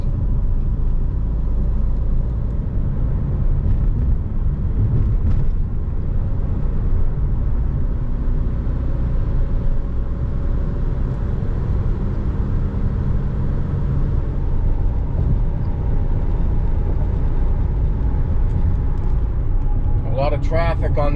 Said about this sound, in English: A lot of traffic on the other side